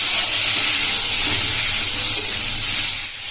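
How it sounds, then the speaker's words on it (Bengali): Chopped tomato frying with onions in a pan, a loud, close, continuous hissing sizzle that fades slightly at the end, with no voices. "টমেটোটা একটু পেঁয়াজের সঙ্গে ভেজে নেব।"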